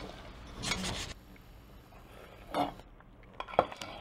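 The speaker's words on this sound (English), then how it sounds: "So we're going to stir it just for another minute." A spoon stirring cherries, milk and sugar in a pot gives a few soft metallic clinks and scrapes against the pot, close and sparse in a quiet kitchen.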